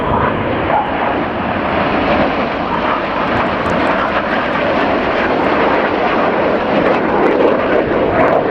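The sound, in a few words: Red Arrows jet aircraft flying a formation display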